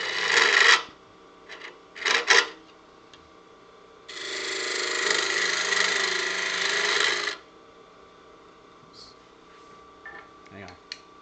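A turning tool cuts wood on a lathe while an acorn box is shaped, giving a rough, steady rasping hiss that lasts about three seconds, between short bursts of cutting and a man's speech.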